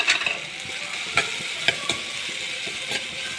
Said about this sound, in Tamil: இந்த தனியா, சீரகம், பச்சைக்கடலை போட்டு வறுத்துக்கோங்க